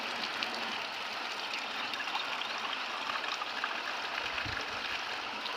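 Water is poured glass by glass into the tank of a crop sprayer used on soybean, a continuous rushing, splashing wash at steady moderate loudness with no speech.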